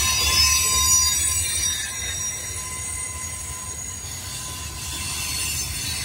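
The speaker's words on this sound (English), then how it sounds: "Looks like we got a DPU on the end down there pushing him up the hill here." A freight train climbs a grade on the Rat Hole line with a DPU locomotive pushing at the rear, a steady heavy rumble of rolling cars with a thin, sustained wheel squeal running throughout, fairly close and without voices.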